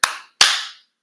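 Two sharp, forceful hand claps ring out close and loud, a short gap apart, each with a brief fading tail.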